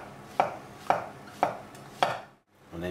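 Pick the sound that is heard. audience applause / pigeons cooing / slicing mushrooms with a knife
slicing mushrooms with a knife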